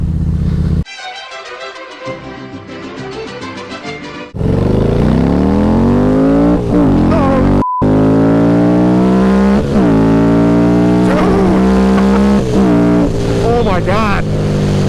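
A 2017 Harley-Davidson V-Rod Night Rod motorcycle engine accelerating hard through the gears, loud rising revs climbing in pitch with quick shift drops between, preceded by a lower idle-like drone.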